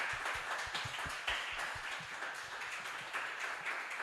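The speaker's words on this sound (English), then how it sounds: "Round of applause." Scattered hand claps from a small symposium audience after a talk, sparse and uneven at moderate distance over a low room hum.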